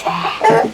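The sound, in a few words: chickens clucking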